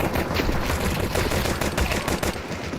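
Dense, continuous gunfire in a Counter-Strike 2 esports match, with rapid shots layered over a busy game background throughout.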